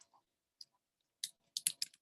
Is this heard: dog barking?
no